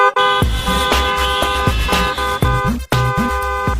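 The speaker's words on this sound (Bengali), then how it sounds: "এই যে আপনি এতক্ষণ হর্ন দিলেন" A vehicle horn honks loudly and close by in a series of repeated blasts with short breaks between them. No one speaks.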